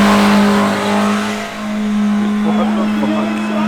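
A Nissan Hardbody truck doing a burnout: a loud, sustained engine roar at high revs with a steady droning tone and tire noise, continuous throughout with a brief dip midway.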